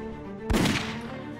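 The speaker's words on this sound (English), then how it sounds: "fire at will" A single loud gunshot in the tactical game Silent Storm, an abrupt close blast with a short ringing tail over a low background hum.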